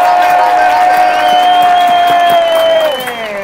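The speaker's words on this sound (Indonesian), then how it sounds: "Mana suaranya, tepuk tangan, tepuk" A comedy show audience claps and cheers, a loud, dense crowd sound under a sustained tonal music line that holds through the clip and fades slightly at the end.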